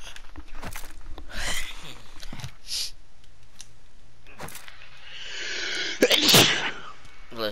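A person sneezes once, sharply and up close, near the end, following a stretch of clicks, rustles and handling noises in a quiet room.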